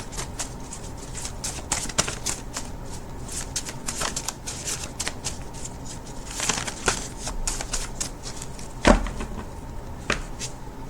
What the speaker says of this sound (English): Let's shuffle this deck a couple more times